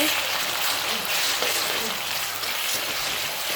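Chicken pieces sizzle in a hot pan with onions, a steady close frying hiss with occasional stirring, being cooked for a pasta dish.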